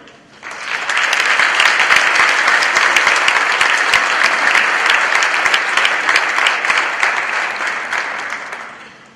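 An audience at a Veterans Day ceremony breaks into steady, full applause that swells within a second and holds evenly before tapering at the end, with no voices over it.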